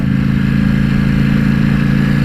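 A Ducati Panigale V4S V4 motorcycle engine runs close and loud, a smooth, even, fast-pulsing idle with no revving, alone without voices.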